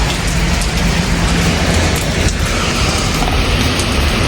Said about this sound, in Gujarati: અત્યારે વરસાદ પડવાનું ચાલુ થઈ ગયો.